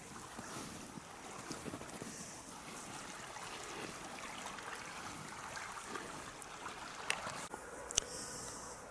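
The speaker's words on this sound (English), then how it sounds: "We've got this beautiful creek running alongside of us here." A creek runs past sandstone bluffs in winter with a faint, continuous water rush blended with wind noise and a few small knocks, and no voices.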